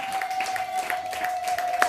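A church congregation applauds for Jesus during a sermon, a dense, even patter of clapping that runs throughout under a steady ringing tone.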